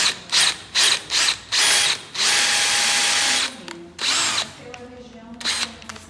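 A power drill bores holes for fitting a Yamamotto YA 50W surface-mounted lock into wood: several short, loud whirring bursts in quick succession, then one longer sustained run and a few more brief spurts with mechanical clicks between.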